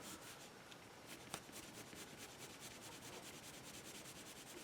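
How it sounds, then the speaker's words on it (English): Oil-based colored pencils scratch and rub steadily across textured paper while layering color, producing a faint, close, continuous scraping texture with rhythmic strokes and no voices. "Seem to lay down pretty much like any other colored pencil. Let's see how they layer."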